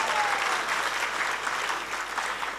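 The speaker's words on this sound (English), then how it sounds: "Please give yourself a big round of applause." Audience at a sannyasa initiation ceremony in a Hindu temple applauding, a short burst of continuous, even clapping filling the space with no voices over it.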